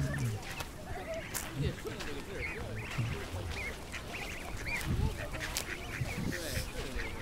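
Ducks and geese quacking and honking outdoors, scattered calls from several birds at moderate distance over a steady background with voices nearby.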